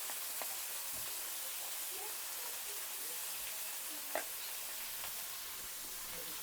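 Turmeric stirred into a pan of sizzling Maggi noodles, giving a steady, fairly faint frying hiss with occasional small clicks of a spoon and one sharper tap.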